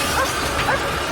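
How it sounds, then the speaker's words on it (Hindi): A dog barks at a car during a search, short yapping barks close by over steady background noise, with faint voices mixed in. "सेज इस कार पर भौंक रही है।"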